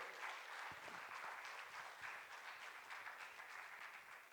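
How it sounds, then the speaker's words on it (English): Audience at a national homeopathy conference in Coimbatore applauding: steady, dense clapping from a crowd, continuous throughout and heard from a distance at low level. "before you start clapping more"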